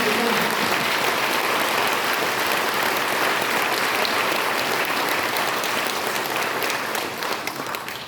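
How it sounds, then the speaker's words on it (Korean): Sustained applause from a large audience at a Korean civic assembly, a dense, steady roar of many hands clapping that continues at full strength for several seconds and begins to fade near the end. "뜨거운 감사의 박수를 올려드리겠습니다"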